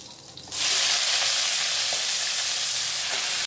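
Chopped taro, potato, flat beans and spinach hit hot oil with green chillies for a vegetarian spinach curry, bursting into a loud, steady sizzle that fills the pan for a few seconds before stopping abruptly.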